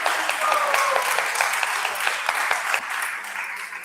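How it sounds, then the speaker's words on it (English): Sustained applause from an audience at a Gita camp presentation in Palatine, a thick steady patter of many hands that eases off slightly toward the end. "big round of applause for you guys"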